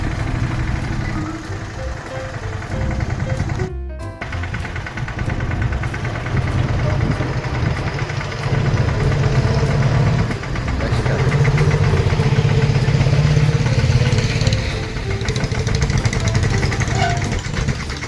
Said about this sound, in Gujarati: આ ટ્રેક્ટર પાછું તુવેરવાળામાં હાંકવાનું છે